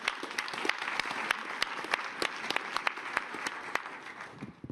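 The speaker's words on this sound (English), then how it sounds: "giving them a big round of applause" A conference audience at a World Economic Forum session on climate applauds steadily, with sharp individual claps standing out over a dense wash of clapping throughout, tapering slightly at the end.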